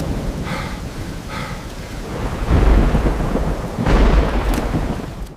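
Thunderstorm sweeping over an open muddy plain, with heavy rain hissing steadily and deep rolling thunder building in two loud, close waves; no voices.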